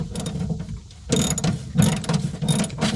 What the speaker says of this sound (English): So you've got to just loosen it with your socket and then put your wrench on it.